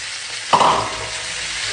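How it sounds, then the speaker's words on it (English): Strips of beef fillet and mushrooms frying in a pan: a steady close sizzle, broken by one sharp stir or toss partway through. "Mix it up, let it fry off, and we are nearly there."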